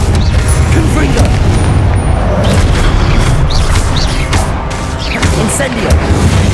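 Confringo fire spell blasts in the Hogwarts Legacy video game: a dense, continuous roar of booming explosions and crackling magic effects, loud and close, without a break.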